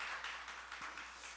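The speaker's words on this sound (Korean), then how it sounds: "박수 주시기 바랍니다" A congregation applauds during an afternoon worship service at a Korean church. The clapping is brief, dense and steady, fairly faint and even, with no speech over it.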